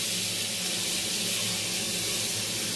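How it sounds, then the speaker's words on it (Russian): Water runs steadily into a cooking pot as it is filled for boiling, a continuous close hiss and rush with no break and no one speaking. "Сейчас воды налью"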